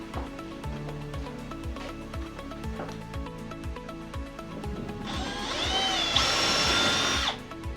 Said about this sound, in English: now I'm going to drill some holes